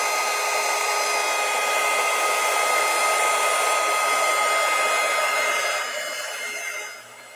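A handheld hair dryer blows on wet paint on a craft project, a loud, steady close-up whoosh that drops in level near the end as it is moved away or switched down, with no speech.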